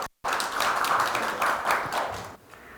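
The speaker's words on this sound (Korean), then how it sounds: "큰 박수로 무대에 모시겠습니다" Audience applause at a Gwangju smart city forum welcoming a KT executive to the stage, steady dense clapping from a crowd after a brief silent gap, fading slightly toward the end.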